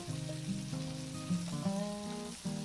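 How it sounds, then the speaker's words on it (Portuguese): Shrimp browning in a pan for a creamy shrimp risotto give a steady, broad sizzle and crackle throughout, sitting under tonal background music. "vamos dar uma douradinha nesses camarões"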